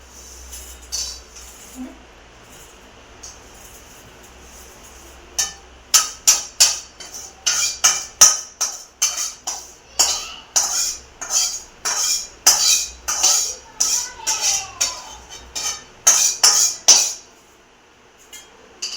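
A spoon repeatedly scrapes and clinks against a metal pan as ghee-roasted vermicelli is transferred onto a plate. After a quiet opening, a quick run of about twenty sharp metallic strokes follows, close and clear.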